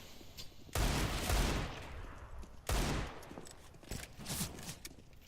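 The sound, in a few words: Desert Eagle pistol shots in a Counter-Strike video game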